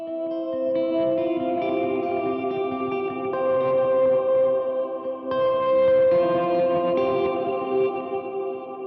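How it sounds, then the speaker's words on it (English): Sustained electric guitar chords swell and wash with reverse delay used for pad sounds, notes blooming backwards into thick reverberant pads, steady and loud throughout without any voices. "So here's kind of what I use the reverse delay for."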